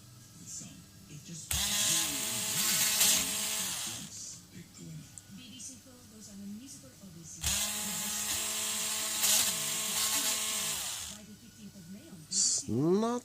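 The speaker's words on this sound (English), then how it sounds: "the plastic is quite hard, so the drill is dancing about quite a bit." Power drill boring holes through hard plastic while building a simple AC-powered AM transmitter, two sustained whining bursts of a few seconds each with the bit chattering and skipping, and someone speaking in the quieter gaps between them.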